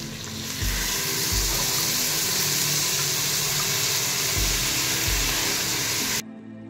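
Rice goes into a hot cooking pot for coconut rice, a steady loud sizzling hiss with a few soft low thumps, cutting off abruptly at the end.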